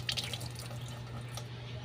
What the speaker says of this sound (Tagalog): Lalagyan ko po ng konting tubig